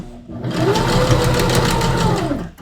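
Sewing machine running steadily while stitching a backstitch on fabric in a workshop, a loud close mechanical whir that rises quickly and holds evenly for about two seconds before stopping.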